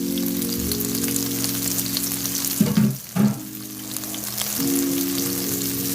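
Shrimp fry and sizzle in a SODAY pan, a loud, steady crackling hiss close by, briefly disturbed by stirring before settling back into continuous frying.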